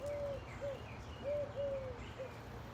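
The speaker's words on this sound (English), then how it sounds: "we're just gonna take this time to listen to the birds" Birds call outdoors during a quiet midday pause, soft repeated dove-like coos drifting over a low steady background hum, fairly distant and faint.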